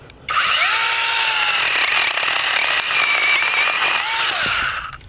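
A SEESII PS800 brushless electric pole saw whines loudly as it cuts through a dead pine branch, a steady high buzz lasting about five seconds with the pitch dipping under load at the start and end.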